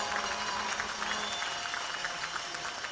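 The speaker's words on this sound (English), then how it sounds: "So give all of them a big round of applause." A hockey crowd at the 2024 USHL Clark Cup Final Game 4 in Fargo claps steadily and loudly for a few seconds, dense applause without a break.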